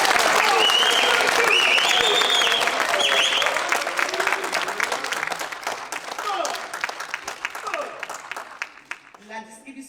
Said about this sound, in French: Je vous demande un tonnerre d'applaudissements pour Azdine Taibi.